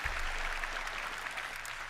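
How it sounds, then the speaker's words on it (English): Delayed audience applause breaks out at an Nvidia keynote after a DGX GPU system is shown, a steady wash of many hands clapping at moderate distance with no voices over it, holding through the short stretch. "Those delayed claps, yeah, woo, wow."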